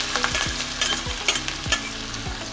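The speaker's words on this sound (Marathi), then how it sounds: "आता तुम्ही बघू शकता इथे आपली राई चांगली तडतडली आहे" Mustard seeds, curry leaves and garlic-chili paste sizzle and crackle in hot oil for a vada pav tempering, a dense steady fry broken by several scraping stirs of a spoon against the pan.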